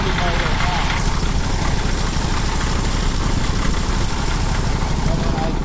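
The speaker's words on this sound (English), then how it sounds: "Just let the pony run until it runs out of fuel" The pony motor of a 1955 Cat 12 grader idles steadily with a dense, even engine rumble and rattle that holds throughout, close and loud, with no pauses.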